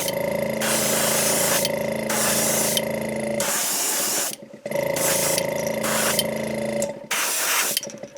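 Spray paint hissing onto a fishing lure body, coating it red, in long steady bursts with short pauses between, loud and close with no voices.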